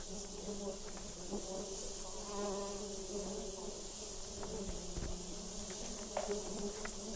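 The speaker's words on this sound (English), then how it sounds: "So, these are Russian bees." Russian honeybees hum steadily around an open hive, a dense close buzz with individual bees zipping past, faint clicks mixed in and no voices.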